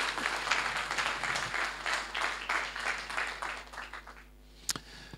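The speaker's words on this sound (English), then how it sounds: "Let's give Rona a big round of applause" A church congregation at a Sunday service applauds a presenter named Rona with steady clapping for several seconds, then the clapping fades out, leaving a couple of sharp claps near the end.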